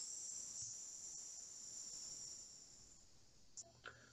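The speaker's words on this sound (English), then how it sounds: "So I'm going to play the call of a cicada." A dog-day cicada's shrill, continuous buzzing drone, steady and faint, fading slightly toward the end with a couple of soft clicks.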